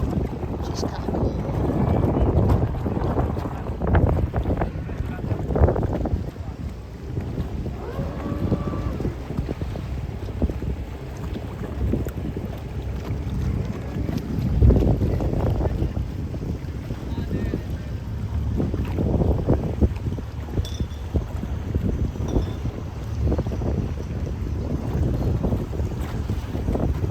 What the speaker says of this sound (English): sailboat leaving.